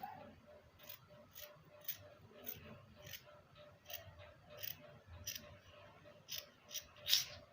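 Scissors snip repeatedly through dress fabric while a pleated maxi dress is cut out, a steady run of crisp close cuts at an even rhythm with a low hum underneath.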